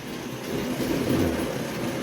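A short burst of whirring, grinding rumble as the wheels of a Lionel 736 Berkshire model steam locomotive spin and slip on the track while pulling a train of 6464 boxcars, rising slightly in the middle.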